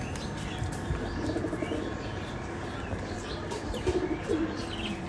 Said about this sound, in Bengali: মোটামুটি অনেকগুলো কবুতর রয়েছে আজকে